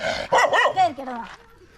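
A dog barks and growls up close in a short, loud burst, the snarling sounds tailing off into a lower rumble, at Anappara View Point, Thodupuzha.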